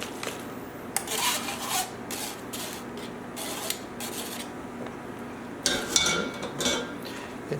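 A spoon scrapes and rubs against a metal strainer to work out stuck Israeli couscous, in repeated raspy strokes with short pauses, close and fairly quiet.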